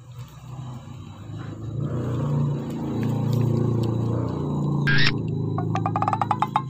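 A motorcycle engine revs in the foreground, its roar rising and falling over several seconds before ending in a burst of rapid, sharp ticking pulses.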